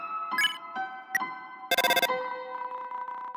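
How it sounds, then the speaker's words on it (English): Electronic phone ringtone from the Deltarune Chapter 1 video game, heard as short bright melodic chimes repeating in bursts, with one louder, denser ring near the middle, clear and alone with no talk. "Phone kept ringing infinitely."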